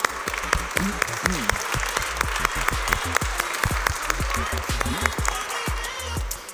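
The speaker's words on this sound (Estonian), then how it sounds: "Nii, teeme aplausi, palun." Lively audience applause at the opening of a solar energy exhibition at a science discovery centre, with dense, sharp claps sustained steadily for several seconds, loud and close, with a faint murmur of crowd voices beneath.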